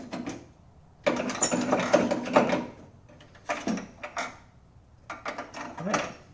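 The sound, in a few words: ratchet wrench removing bolts, Porsche 944 top mount bumpers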